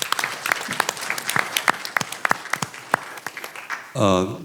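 A small crowd at a school district board meeting claps steadily for a few seconds, close and crisp, ending as a voice begins to speak.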